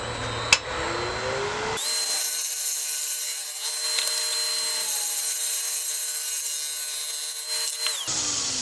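A half-inch bowl gouge cuts a beech bowl spinning on a lathe, giving a steady scraping hiss over the lathe's constant whine for several seconds, which starts and stops abruptly.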